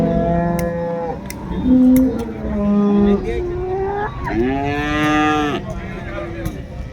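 An HF cow moos several times nearby at a cattle market in Rahuri, long low bellowing calls with one rising, louder moo toward the end, over faint background noise.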